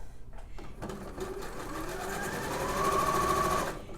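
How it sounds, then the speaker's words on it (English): A sewing machine stitches a narrow rolled hem, starting after a short pause and running in a fast, even mechanical chatter that grows slightly louder and steadier before stopping, close up and with no talking. "I'm just rolling over like barely 1/4 inch, not even, and stitching."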